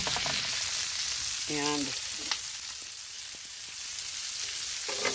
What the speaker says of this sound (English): I'm going to add in the zucchini.